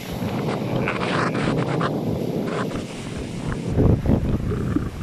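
Ocean waves wash steadily against the shore amid strong wind buffeting the microphone, with a louder surge of surf near the end.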